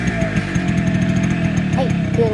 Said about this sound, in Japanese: 急なエンジン音びっくりしますよね。